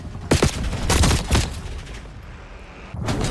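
Gunfire in the Call of Duty Black Ops 6 beta, apparently an LR 7.62 one-shot sniper rifle: a sharp crack near the start followed by a rolling echoing boom that fades, with another burst at the end.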